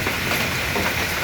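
Steady rain falls outdoors in a rural Thai village, a dense, even wash of patter with a low rumble beneath and no speech.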